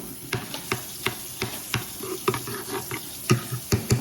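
Hennessy wing sauce ingredients with buttermilk being stirred and mixed in a pot, giving a series of irregular close clinks and scrapes with a soft wet sizzle underneath.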